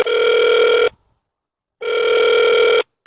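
A telephone line rings twice with the classic two-part ringback tone, each burst close to a second long and separated by a pause, loud and clean with no voices, as a radio call is being connected.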